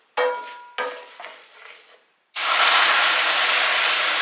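Boiling water poured onto a cup of couscous, starting as a loud, steady broadband hiss at about 2.4 seconds and running to the end, after a few sharp clattering scrapes.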